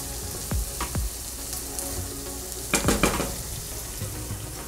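Chicken pieces sizzle steadily in a frying pan while being stirred, a loud constant fry broken by a few scraping stirs and clinks of the utensil against the pan.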